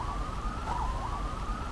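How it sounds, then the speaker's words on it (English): An ambulance siren wails steadily in the distance, its pitch sliding up and down faintly over low traffic rumble in downtown Brisbane. "if you can hear the ambulance going on"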